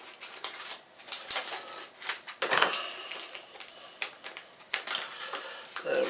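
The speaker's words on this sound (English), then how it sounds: "I'm going to use scissors to cut these open." Crisp snipping and crinkling of scissors cutting through plastic MRE food pouches, including applesauce, a series of sharp irregular cuts and rustles, close and fairly quiet.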